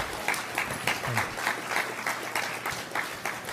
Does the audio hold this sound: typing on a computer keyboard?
no